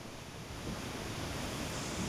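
Floodwater of the Bhima river rushes steadily after a 50,000-cusec release from the Gurusanagi barrage, a loud, continuous broadband roar with no pauses and no voices.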